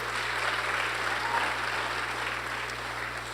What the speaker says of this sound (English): Round of applause for Alana Dawn,